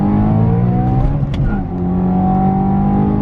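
Supercharged BMW E92 M3 accelerating hard in second gear, loud steady engine roar rising in pitch from inside the car, with a brief dip partway through.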